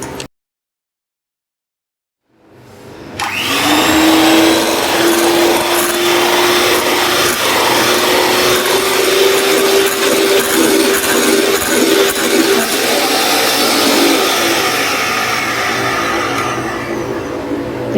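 An electric mixer whips cream with two spoonfuls of powdered sugar in a home kitchen. After about two seconds of silence it starts with a loud, steady whirring drone that runs without a break to the end.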